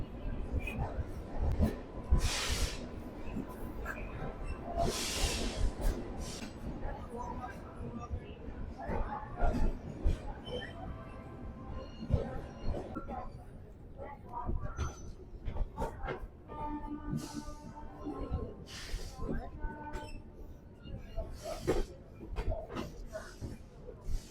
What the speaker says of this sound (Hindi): अपनी ट्रेन 7:21 पे निकल रही है गाजियाबाद जंक्शन के प्लेटफॉर्म नंबर 4 पर से